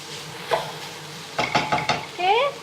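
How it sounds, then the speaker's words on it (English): Hokkien noodles with dark soy sauce and white pepper are stirred in a pan, with a quick clatter followed by a burst of rhythmic utensil scrapes and knocks against the metal over a faint sizzle. "and white pepper. Stir it all through."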